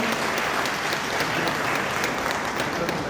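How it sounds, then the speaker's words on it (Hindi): Applause from an audience at a speech marking Raja Ram Mohan Roy's 251st birth anniversary, a steady mid-level clapping that lasts throughout without a break. "ताली नहीं बजा रहे हो क्या?"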